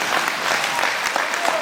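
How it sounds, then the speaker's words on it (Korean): Party members at a Korean political party core-member workshop clap together in a brief, dense burst of applause, close and fairly loud, with individual hand claps poking through the continuous roar. "그게 맞다고 생각하면 박수 한번 쳐보세요."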